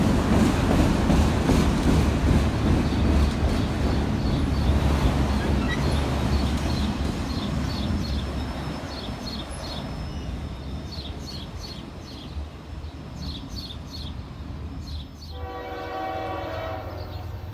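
A northbound CSX freight train rumbles past loudly in Princeton, Indiana, its wheels clattering steadily, while a horn sounds in repeated blasts; the rumble gradually eases.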